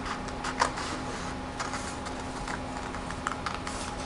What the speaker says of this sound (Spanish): tomamos nuestras tijeras y vamos a ir recortando